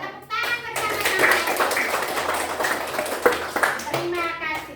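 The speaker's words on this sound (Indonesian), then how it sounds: "kita tepuk tangan bersama-sama" Children in a classroom clap together in a dense, sustained round of applause lasting several seconds, with young voices and an adult voice heard around it.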